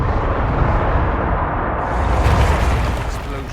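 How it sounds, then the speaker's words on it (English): Dense, rumbling blasts of explosions in an underground ruin in the video game Dragon Age: Inquisition roar continuously, loud and heavy with deep booming low end. "Explosions in an underground ruin."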